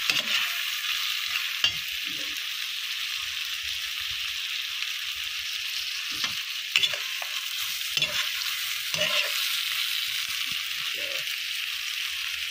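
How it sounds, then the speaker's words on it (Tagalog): Shrimp sautéing in butter with garlic gives a steady, bright sizzle throughout, broken by occasional soft scrapes and taps of stirring in the pan. "Gilis na natin sa butter with garlic."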